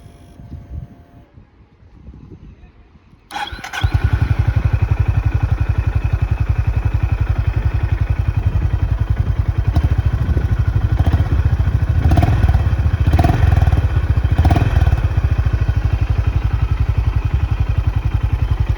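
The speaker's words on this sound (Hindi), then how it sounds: "ये है हाइनेस की exhaust note, just listen to it, it is really loud." A Honda H'ness 2022 motorcycle engine fires up after a few quiet seconds, then settles into a loud, throbbing exhaust idle, with several sharp revs toward the end.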